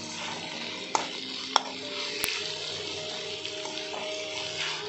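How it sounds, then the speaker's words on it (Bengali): Chicken sizzling in a pan while being coated with spices, a low steady sizzle with a few sharp clinks of a utensil against the pan, close and fairly quiet. "এবার চিকেনটা দিয়ে দিচ্ছি। চিকেনটা আমি ছেড়ে দিয়েছি"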